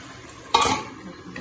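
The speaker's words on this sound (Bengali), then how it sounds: "আমি খুন্তি দিয়ে একটু নেড়ে নেব, নিচটায় লেগে গেছে নাকি" A spatula scrapes once through fish cooking in a pan, a short clattering stir that rises sharply and fades over a soft sizzle.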